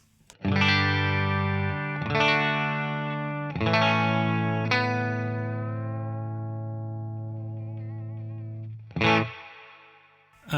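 An electric guitar plays through the clean setting of a Wampler Dual Fusion pedal: a few bright chords struck one after another, each left ringing and slowly fading, then a single fresh strike near the end, with no talking.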